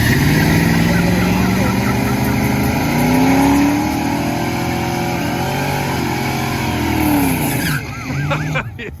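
A 1985 Foxbody Mustang revving hard and spinning its wheels, a loud rising engine roar layered with tire squeal and skidding, close by, with people talking and shouting over it before the noise drops near the end.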